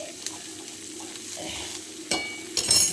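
Vegetables for a Bengali shukto stirred in a little hot oil, a close steady sizzle with scraping and clinking of a spatula against the pan, louder bursts near the end.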